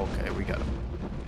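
Enemy blowing apart in Return to Castle Wolfenstein, a dense rumbling burst with creaking, mechanical debris that fills the short moment at steady loudness.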